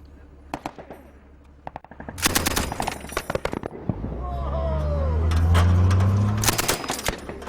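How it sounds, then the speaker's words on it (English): Bursts of rapid machine gun fire from a commander's vehicle-mounted gun during Pathfinders training in Afghanistan, loud cracking volleys in several clusters with a deep rumbling engine-like drone building underneath. "the Pathfinders insisted I learned how to use the commander's machine gun"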